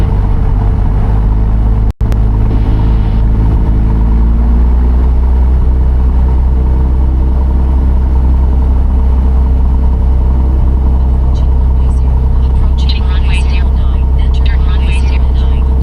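A Piper Cherokee Six light aircraft engine drones steadily through the takeoff roll, a loud, continuous low rumble with one sharp click near the start and a radio voice breaking in late.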